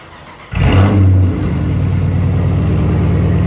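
A 2015 Dodge Charger R/T 5.7L Hemi AWD V8 with Dynomax exhaust and mid delete fires up with a loud burst, then settles into a steady, rumbling exhaust idle nearby.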